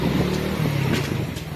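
Motorbike engine on a village ride in Pakistan, dropping back into first gear for a speed hump: a steady low engine drone close by, with no talk over it.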